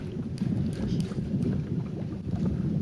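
Gusty wind over Lake Ikehara, a reservoir, blasting straight into the microphone from a fishing boat, a loud, continuous low roar with no voices.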